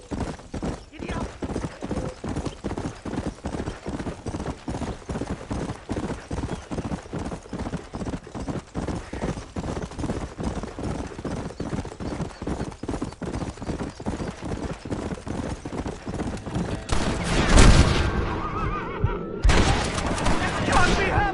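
Horse galloping in the Western video game Red Dead Redemption, a steady rapid clip-clop of hooves running throughout, with a louder burst of noise near the end.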